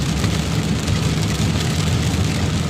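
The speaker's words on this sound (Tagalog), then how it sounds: "hindi to cloud seeding kasi kumikidlat, kumukulog. Talagang totoong ulan talaga to." Heavy rain pouring during a thunderstorm in Dubai, a dense, loud, unbroken hiss of falling water, no talking.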